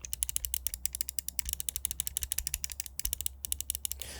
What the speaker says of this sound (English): Moving on to the buttons, the mouse 1 and 2 feel great. Here's a sound test.